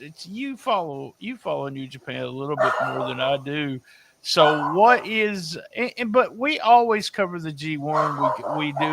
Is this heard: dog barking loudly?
yes